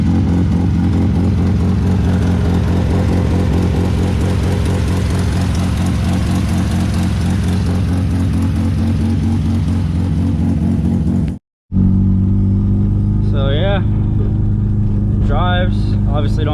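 A Mazda RX7 rotary engine drones loud and steady as the car drives, its buzzy idle-like hum continuous, then after a brief cut it carries on with rising revs audible over the running.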